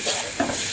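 A spoon stirs baked beans in a pan on the stove, a brief, steady scraping swirl with a soft sizzle underneath, heard close up.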